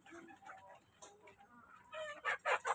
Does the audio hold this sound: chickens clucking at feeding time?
yes